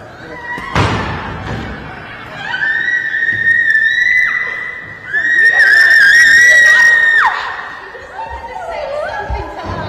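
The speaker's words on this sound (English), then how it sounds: "her being arrested, screaming and sobbing as officers dragged her out of the governor's office" A woman screams and sobs while officers drag her out of a governor's office. Long, loud, piercing wails rise and fall with thuds and a bang, and other voices are heard in the commotion.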